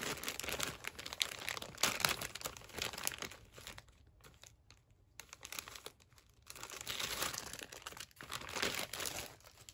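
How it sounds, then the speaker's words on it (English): A glassine bag being pulled out and handled in a junk journal craft session: continuous close crinkling and rustling of thin paper, louder at the start and end with a quieter stretch in the middle, no speech. "Let's pull out a glassine bag."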